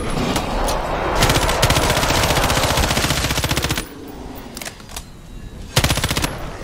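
Rapid automatic gunfire from Killing Floor 2 on Hell on Earth difficulty, loud sustained bursts of machine-gun shots with brief pauses and a final short volley.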